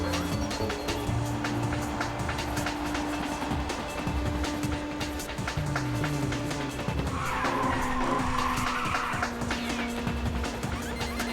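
Car drifting with tire squeal in the video game Ridge Racer 2, a steady engine drone with a sustained high screech of tires sliding through a corner, loud and continuous over the race music.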